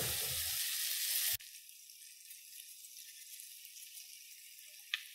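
Sliced onions and bell peppers sizzle loudly in a pan, the hiss dropping abruptly after about a second to a softer, steady crackle, with a faint clink near the end.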